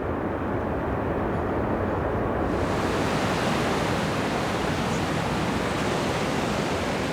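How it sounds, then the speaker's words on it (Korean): A steady, dense roar of rushing water, loud and unbroken throughout, from Montmorency Falls, an 83-metre waterfall beside the St. Lawrence River near Quebec City, heard from nearby. "세인트 로렌스 강변에 위치한 몽모랑시 폭포의 위용이 바로 드러난다"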